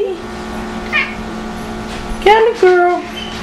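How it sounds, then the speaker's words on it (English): A stray cat meows inside a house, a few short cries and two stronger rising meows near the end, close by, with a person's voice talking softly in the background. "We have the stray cat that keeps coming in our house."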